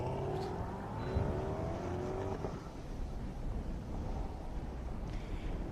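A Mazda Miata race car on a solo autocross course, its engine whining up through the gears and revving as it passes at moderate distance, with a continuous hum of outdoor ambience and no talking.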